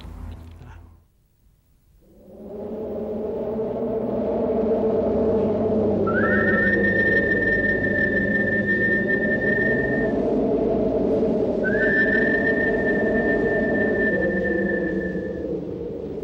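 A man whistles long, sustained, clear tones twice in succession, loud and close over a low, steady rumble, set on the cold slopes of the Andes.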